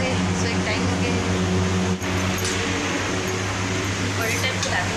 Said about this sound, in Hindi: खबर की कूलर चलत है कूलर